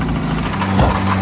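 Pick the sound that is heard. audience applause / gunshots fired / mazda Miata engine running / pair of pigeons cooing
mazda Miata engine running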